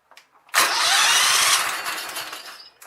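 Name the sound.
Kohler Commander engine on Sears Craftsman tractor cranking and firing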